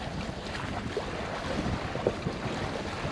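A sailboat cruises at about four knots on open water toward Panama City, with steady broadband wind rush buffeting the microphone and a washing swell of waves beneath, a few faint knocks from the boat, no talk.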